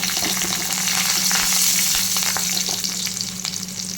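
Curry leaves sizzle in hot frying oil for an egg pepper gravy, a loud, constant crackling fry with small spits and pops close by and no talk.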